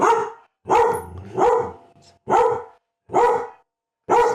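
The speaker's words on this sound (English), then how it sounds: "Sorry, that's the dogs going off." Several dogs barking at a postman indoors, five loud bursts in an irregular rhythm close by, with a brief pause between barks and a faint word spoken among them.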